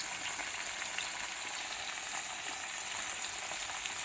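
Tomatoes softening in a pan with salt, chili powder, coriander powder and garam masala, giving a steady, fairly quiet hiss of frying that holds evenly throughout without voices.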